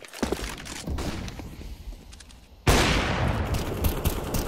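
A flashbang grenade goes off in a shooting video game: scattered gunfire and impacts, then a sudden loud blast that cuts in and stays as a sustained bright ringing roar to the end.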